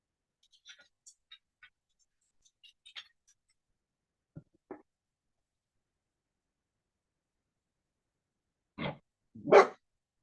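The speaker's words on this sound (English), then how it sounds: "Nora, what are you barking at?" A dog gives two sharp barks near the end after a stretch of near silence, preceded by a few faint distant chirps and clicks.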